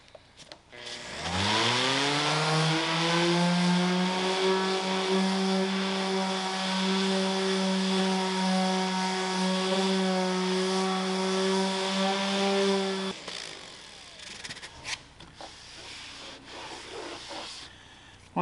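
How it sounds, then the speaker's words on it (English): Firewood is sanded with 100 grit sandpaper: a motor whine rises sharply and holds a steady, loud tone for about twelve seconds, then cuts off, leaving softer scraping and rubbing noises. "So I think it's time to hit them with some sandpaper. I'm gonna start with some 100 grit"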